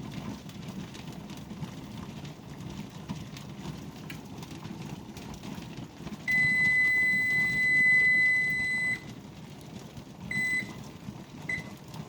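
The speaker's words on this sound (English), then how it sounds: "Alright, so the timer's off." Kitchen timer going off after a canning water bath of mandarin oranges: a steady high electronic beep for a few seconds, then two short beeps, over a low rumble of kitchen background.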